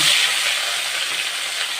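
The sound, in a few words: fish frying in oil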